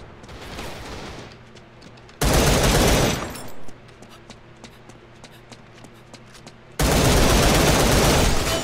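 Gunfire in the video game Line of Sight, two loud bursts of rapid fire roughly two seconds long each, separated by quieter in-game ambience and footsteps.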